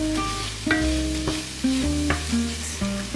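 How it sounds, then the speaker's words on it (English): Garlic frying in a pan with steady close sizzling, broken by clattering stirs and tonal kitchen clanks throughout. "I'm gonna add my garlic. Come on, garlic dude. I would cook that for a minute."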